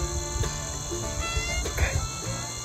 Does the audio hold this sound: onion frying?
no